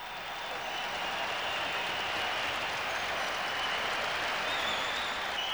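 A large crowd at a political rally cheering and applauding, a dense, sustained roar of clapping that swells in after the first moment and holds steady and loud to the end.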